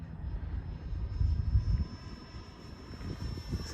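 An FMS 70mm Viper radio-controlled jet with afterburner runs up its ducted fan, giving a steady, fairly loud rushing whine with a thin high tone and a rumbling low end that swells briefly mid-way.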